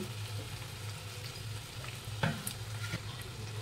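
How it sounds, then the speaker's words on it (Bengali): Hilsa fish pieces and spice paste hiss quietly in a wok as they are stirred, with a soft, even frying sizzle broken by a few sharp scraping clicks; no voices. "সবকটা মাছকেই আমি কড়াইয়ের মধ্যে ছিঁড়ে দিলাম আর তার সাথে যে মশলাটা ছিল মশলাটাকে দিয়েও আমি এইভাবে ঘুরিয়ে নিচ্ছি"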